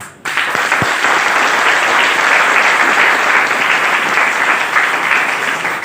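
Loud, dense audience applause fills a hall at an inspirational talk, starting abruptly and holding steady throughout as a continuous wash of many hands clapping.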